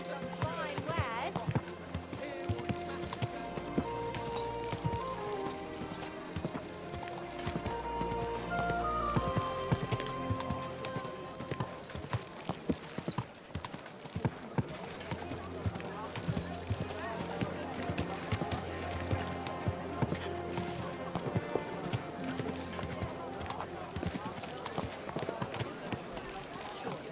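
Horse hoofbeats clip-clop in Kingdom Come Deliverance 2, a steady rhythmic trot running through the scene under loud game music and effects, with a voice speaking over it.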